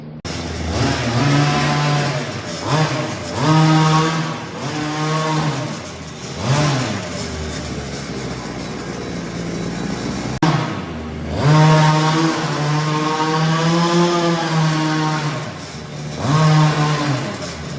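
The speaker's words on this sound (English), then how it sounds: "I'm gonna start it, let it warm up a little bit, and then I'm gonna give it a few half throttle pulls" A gas-powered Redcat Rampage XR rally RC car engine revs through repeated half-throttle pulls during break-in. The buzzy two-stroke whine rises and falls in loud bursts over a steady idle, close by and with no voices.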